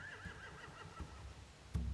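Horses whinny in a barn scene from The Walking Dead video game, a wavering neigh rising and falling near the start, with soft hoof shuffles and a sudden low thump at the end.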